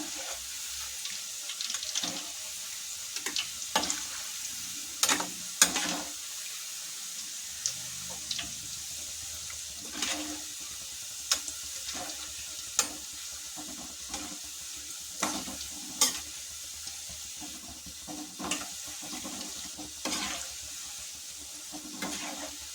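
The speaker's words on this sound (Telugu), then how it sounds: "ఇవి కొద్దిగా ఎర్రగా అయ్యాక ఇలా కలబెట్టుకోవాలి తిరిగేసుకోవాలి ఇలాగా" Onion pakoda fries in hot oil while being stirred: a steady sizzling hiss runs throughout, broken by repeated utensil scrapes and knocks, with no voices.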